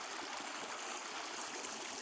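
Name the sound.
clear stream water flowing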